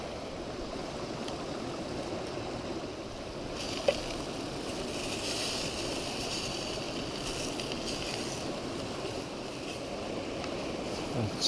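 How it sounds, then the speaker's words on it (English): A Trangia spirit burner roars steadily under a warming pan outdoors on Pendle Hill, a constant breathy rush with wind mixed in. "It's really going that burner now"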